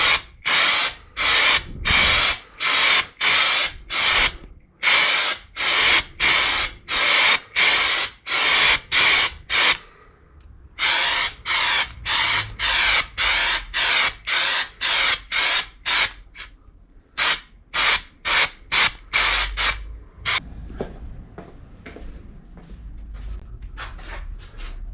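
A spray gun applies Raptor resin coating, a pickup-bed liner product, onto the rusty body of a Panhard PL17. It fires in many short, sharp hissing bursts with brief gaps, then gives way to a quieter, softer spray near the end.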